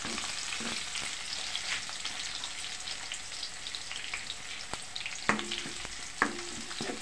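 Garlic and onion sautéing in a pan for ginisang upo, a soft steady sizzle with occasional crackles and a couple of utensil taps, no talking.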